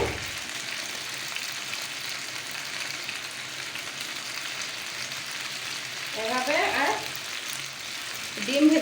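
Pasta and spices go into a hot pan for an egg chicken pasta, giving a steady faint sizzle throughout with a brief louder stir or pour near the end; no one talks.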